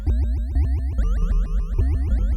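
The Tela modal synthesis synthesizer plays a weird, rapidly repeating series of bouncy, resonant metallic tones with quick pitch swoops, loud and close with no talk.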